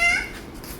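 A person imitates a cat with one short, drawn-out meow that falls in pitch, heard up close and alone.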